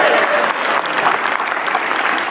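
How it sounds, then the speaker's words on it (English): A church congregation claps for musicians during a Sunday service, a dense, loud burst of applause from a large crowd filling the space. "coming in for applause"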